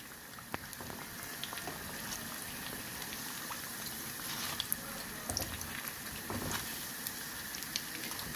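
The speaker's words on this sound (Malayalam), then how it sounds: "ഇതൊന്ന് ഫ്രൈ ചെയ്തെടുക്കാം നമുക്ക്." Chicken spring rolls fry in hot oil with a steady crackling sizzle and scattered sharp pops, close and continuous throughout with no voices.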